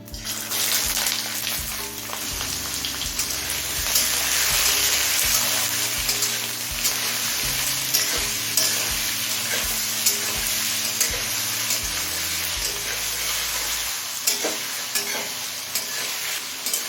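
Small-cut potatoes frying in oil with cumin, bay leaf and dried chili, a dense steady sizzle close by with repeated stirring scrapes throughout and no speech.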